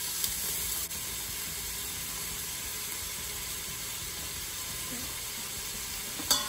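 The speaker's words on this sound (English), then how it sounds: "if you hear a sizzle, like so." Steady, continuous sizzling from a quesadilla frying in a hot pan, a broad hiss with faint crackles throughout, no voices.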